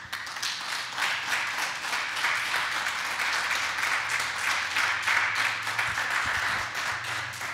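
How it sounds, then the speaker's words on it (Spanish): A church congregation applauds steadily at a Sunday worship service, a dense, sustained wash of many hands clapping together at an even level with no talk over it. "Denle un fuerte aplauso a Cristo por mi hermano"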